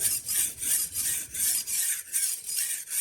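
A knife blade is drawn along a sharpening surface in quick, repeated strokes, about eight rhythmic hissing rasps in three seconds, close and steady with no voices.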